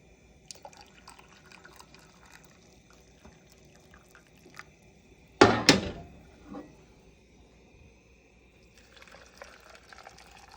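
Water poured into canning jars while packing fresh turnip bottoms for pressure canning: one short, bright splashing pour in the middle, with faint clinks and drips before and after in a quiet kitchen.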